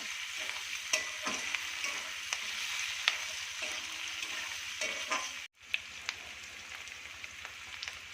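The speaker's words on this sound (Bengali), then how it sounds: "পেঁয়াজ আর ক্যাপসিকাম ভাজা হয়ে গেছে" Onion, capsicum, chopped ginger, garlic and green chillies fry in a pan for chilli chicken, making a constant close sizzle punctuated by repeated clacks of stirring and a momentary break near the end.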